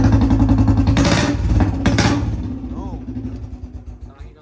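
A Royal Enfield Bullet 2016 motorcycle with an aftermarket silencer exhaust thumps at close range, a loud rhythmic engine pulse that gently eases off over a few seconds.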